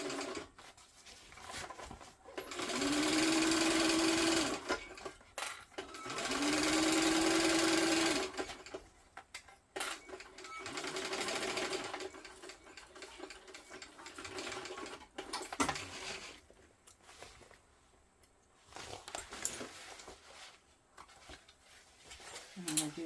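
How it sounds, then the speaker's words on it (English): A sewing machine stitches a bag lining in two steady bursts a few seconds long, then runs in shorter, looser spells, with quiet rustling and handling sounds between them. "I'm going to put my needle into the mark where I need to start."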